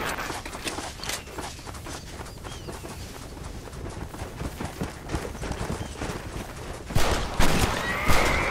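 A video-game horse whinnies and neighs while hooves clip-clop at a run, with faint bird calls and other game ambience behind, louder bursts toward the end.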